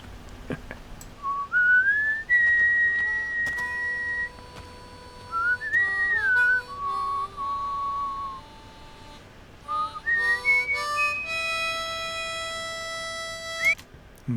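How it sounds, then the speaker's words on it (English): A man whistles a tune in a western short film, clear bright melodic phrases with pauses between them, alone and close, rising higher toward the end. "He's whistling it to his escape."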